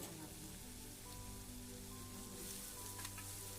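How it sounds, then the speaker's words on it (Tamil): Onions and curry leaves sautéing in a pan with dried red chilies, a steady soft crackling sizzle that runs continuously at low level with no talk. "வெங்காயம் நல்லா செவக்கணும் அது ஒரு ரெண்டு நிமிஷம் நல்லா வணக்கி விட்டுக்கிட்டே இருங்க"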